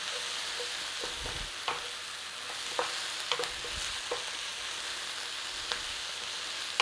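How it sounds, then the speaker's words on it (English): Mushrooms frying in a pan with butter and a little salt: a steady, close hiss of sizzling with a few sharp clicks and scrapes from stirring scattered throughout, and no talk. "In with our mushrooms, a little bit of salt, only a little bit, help draw out that moisture from those mushrooms."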